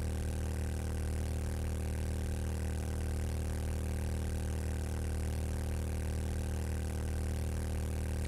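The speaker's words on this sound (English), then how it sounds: "Starting to hear a few funny noises from my motorcycle." A motorcycle engine in a video game drones steadily and evenly for the whole stretch, a constant mid-pitched hum with no talk over it.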